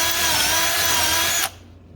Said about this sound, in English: now we're going to drill down the entire stem.